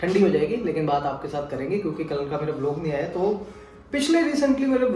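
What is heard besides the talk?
No distinct noise like a dog, phone or traffic.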